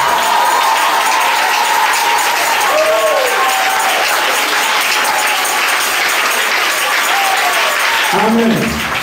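Church congregation applauding and cheering loudly and continuously, a dense wash of clapping with raised voices, a brief shout standing out near the end.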